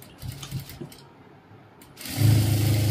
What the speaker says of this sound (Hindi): एक सिलाई तो हम इसी के ऊपर मार लेंगे